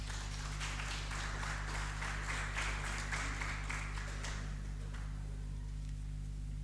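Scattered applause from a congregation at a church wedding service, faint and distant over a steady low electrical hum, fading out after a few seconds.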